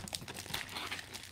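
Sealed mail package being cut open, a soft, continuous crinkle and rustle of wrapping and tape, close and fairly quiet, no speech.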